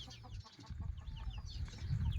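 Ducks in a duck pen make quacking, clucking calls, several birds calling in short bursts close by over a low rumble of background noise.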